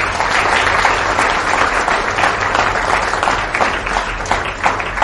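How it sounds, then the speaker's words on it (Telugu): Sustained crowd applause during a Telugu spiritual discourse on the Skanda Purana, a thick, even roar of many hands clapping from start to finish, with little else audible. "చప్పట్లు కొట్టండి"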